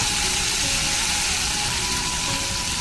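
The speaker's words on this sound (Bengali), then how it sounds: "সর্ষে আর কাঁচা লঙ্কাটা আমি তেলের উপরে দিয়ে দেবো এই যে করে মশলাটা আমি কষিয়ে নেব" A paste of ground mustard and green chilli fries in hot oil for a tilapia curry, giving a loud, dense, continuous hissing sizzle up close with no voices.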